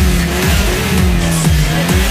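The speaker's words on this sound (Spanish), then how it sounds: "sentir el potencia de este motor" A car engine revs hard and loud up close, its pitch rising and falling in quick repeated surges with a gritty mechanical rasp, and no voices over it.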